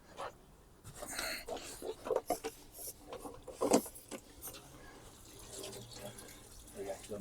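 Tap water running to fill a container for topping up an AMC Wagon's cooling system, a steady splashing stream with a few louder bursts, recorded close with a dog panting nearby.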